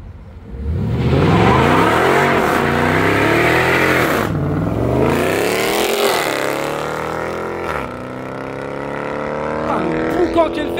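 A sports car at a supercar meeting accelerates hard from a standing start, its loud engine rising through several revving gear changes for about ten seconds, close and dominant, with faint crowd voices underneath.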